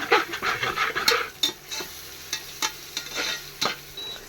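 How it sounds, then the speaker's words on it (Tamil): Chicken biryani masala sizzles and fries fast in a pressure cooker while a spoon stirs it, giving repeated scraping clicks over a steady hiss, heard close with no talking. "ரொம்ப வேகமாக ஃப்ரை ஆகுது"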